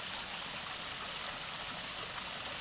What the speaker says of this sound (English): Hear the water running. Making a nice waterfall as it comes out.